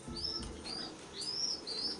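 Pet pigeons give several short, high chirping calls in close succession, loud against a low background rumble, with no voices.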